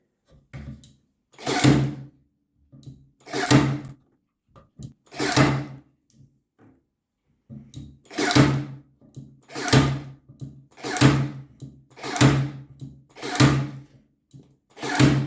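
A Parkside PAT 4 C4 cordless nailer drives nails in a series of sharp, loud mechanical bursts, about ten shots in an irregular rhythm with brief pauses between groups, heard close up with no talking.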